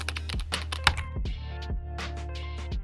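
Rapid, uneven clacking of a computer keyboard as a word is typed into a search box, close and crisp, with no talk.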